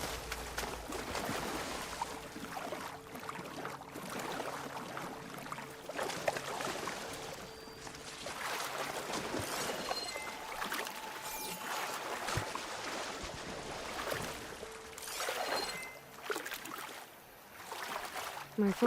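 Underwater ambience in Horizon Forbidden West: a quiet, muffled watery wash with soft trickling and low drones, faint tonal hums drifting through, a voice speaking occasionally.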